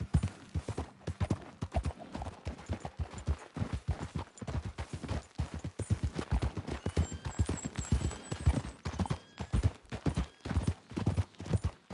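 Horse galloping in the video game Red Dead Redemption 2, its hooves beating a fast, steady, close clip-clop rhythm that runs without pause for the whole stretch.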